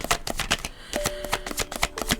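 Tarot cards riffle and slap together in quick, loud, close bursts, shuffled and then drawn in a steady rapid rhythm with no voices over them.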